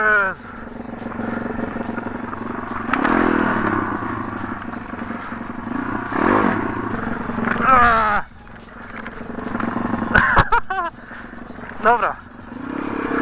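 An MRF 140 RC car engine buzzes and revs steadily during a drive over rough, snowless ground, with pitch rising and falling, louder bursts and clattering, close by, while people talk over it.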